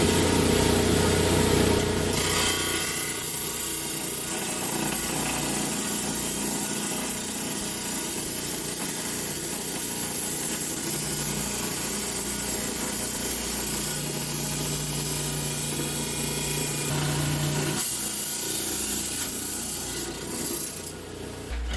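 A power saw cutting through a slab of petrified wood, a loud continuous grinding rasp that holds steady for about twenty seconds, easing briefly near the start and again near the end.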